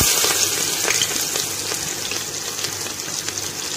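Onions dropped into hot oil in a pan for a spiced rice dish give a steady, close, broadband sizzle with crackling bursts that holds evenly throughout, with no talking.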